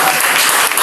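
Congregation in a church service clapping in acclaim, a dense, steady wash of applause that fills the whole moment without pause.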